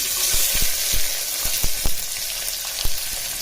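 Steady hiss of chopped small and large onions frying in hot oil, with crackles and several sharp pops and taps standing out from the sizzle.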